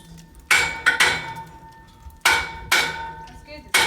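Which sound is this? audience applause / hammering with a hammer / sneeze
hammering with a hammer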